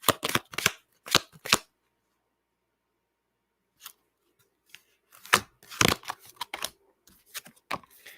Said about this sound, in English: I'm going to pull another card for Efrain